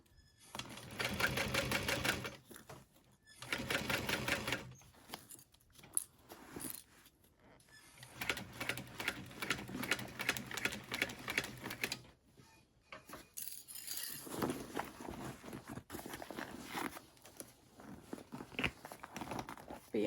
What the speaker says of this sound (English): you don't want to sew past your existing seam allowance